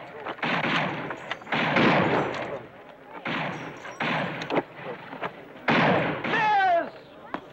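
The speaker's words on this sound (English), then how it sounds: "Shoot at will." Shotgun blasts at a shooting contest crack out as a few sharp reports among people talking, with a bird-like whistle near the end.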